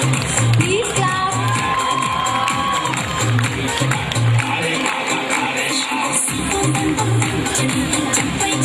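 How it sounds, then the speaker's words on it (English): Crowd at a fashion pageant ceremony clapping and cheering for the second runner-up, with shouts and whoops over steady applause and a rhythmic low thumping underneath throughout. "Please clap."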